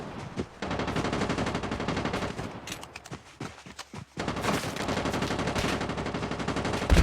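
Sustained rapid gunfire in a video game shootout, dense automatic bursts with a brief lull, then the firing resumes loud and continuous.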